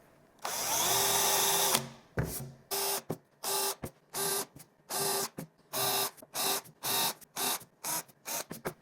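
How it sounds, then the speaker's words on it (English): Drill countersinking screw holes in plywood, one long steady whir followed by a rapid series of short, evenly spaced bursts, close and clear with no talk. "Countersink the heads just a little bit."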